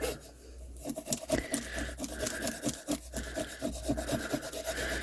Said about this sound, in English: let's just scrape this off